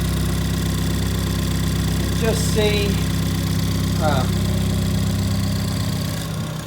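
A Toyota Celica ST180 engine idles in a steady, loud, even rumble throughout, while someone speaks briefly over it.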